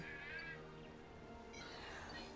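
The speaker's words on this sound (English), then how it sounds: "That sounded like a meow" A cat-like meow from a creature in the video game New Pokemon Snap, drawn-out and wavering with clear tonal rises and falls early on, then fading into the game's steady background ambience.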